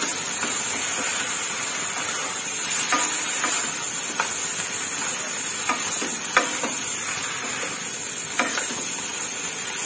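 Hokkien noodles being stir-fried with soy sauce and prawns in a home kitchen, a steady loud sizzle broken by repeated sharp scrapes and clanks of the utensil against the pan.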